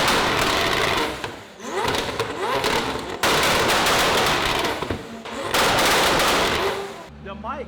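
A Porsche GT3 sports car with a stainless steel exhaust pops and crackles in rapid, loud machine-gun-like bursts, swelling and dropping across several revs, close to the microphone, with some talk underneath.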